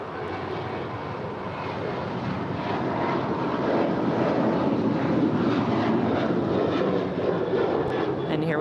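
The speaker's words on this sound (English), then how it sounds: "And here we have United 388 off to Seattle. It's an 8-year-old 737-900ER." United Boeing 737-900ER jet airliner, eight years old, taking off at LAX bound for Seattle: a loud, steady broadband engine roar that swells slightly and holds without a break, with faint voices underneath.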